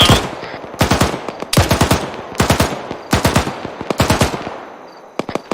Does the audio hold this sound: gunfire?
yes